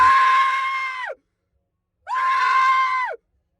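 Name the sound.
people screaming in a Blumhouse horror scream box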